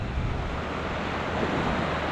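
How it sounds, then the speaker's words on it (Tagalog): Strong sea waves surge at Talisayen Cove, a continuous loud wash of surf mixed with wind rushing over the microphone. "malakas ang alon"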